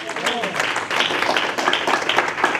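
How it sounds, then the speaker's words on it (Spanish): A congregation at a Bible study claps hands in praise, a continuous, busy patter of many palms filling the room throughout, with voices mixed in. "Dele palmas al Señor"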